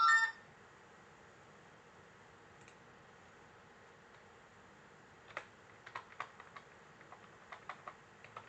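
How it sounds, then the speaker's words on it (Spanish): An IP address being typed on a computer keyboard during a virtual machine setup, with a brief burst at the start, quiet, then a scattered run of light, close key taps. "vamos a ingresar la IP que le vamos a asignar a esta máquina virtual"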